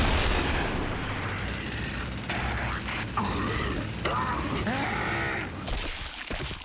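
Rapid gunfire from Gears of War 2 weapons, with heavy mechanical clatter and dense overlapping shots at a steady loud level and a brief drop near the end.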